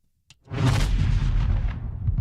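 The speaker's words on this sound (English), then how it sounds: "Can I get an explosion there?" A single explosion effect erupts after a short click, a loud deep boom that swells quickly and rumbles on for under two seconds before easing off.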